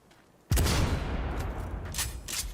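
Enemy gunfire in a video game: one sudden loud blast bursts in and trails into a long rumbling wash, with two fainter sharp cracks near the end and no speech.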